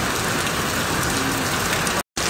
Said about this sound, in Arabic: واو مطر قوي عندنا بالبصرة